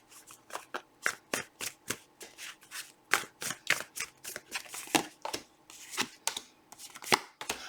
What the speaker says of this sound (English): I've shuffled this deck like 5 times at this point.